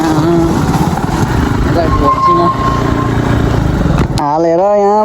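A motorcycle engine runs loud and close with a steady, rough drone for about four seconds, then cuts off abruptly as a voice is heard.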